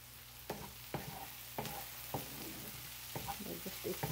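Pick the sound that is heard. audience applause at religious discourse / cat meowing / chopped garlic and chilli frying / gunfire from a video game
chopped garlic and chilli frying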